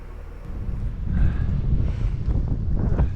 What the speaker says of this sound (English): the gale force wind arrived